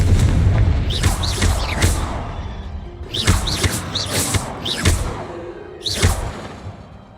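Confringo blasting spells in Hogwarts Legacy, heard as a series of booming explosions with whooshing bursts, several hits clustered in quick succession and then one more a little later, all loud and close.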